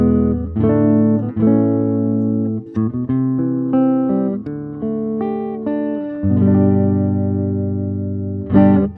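Laney K35 twin reverb valve guitar amp played with the bright switch off, giving a darker tone: chords and single notes ring out loud and sustained with reverb, strummed and picked continuously.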